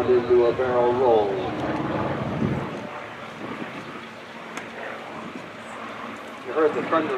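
A WWII F4U Corsair with a huge Pratt & Whitney 18-cylinder radial engine flies overhead at an air show demo, its roar broad and sustained, fading somewhat as it passes, with a voice talking over the start and end.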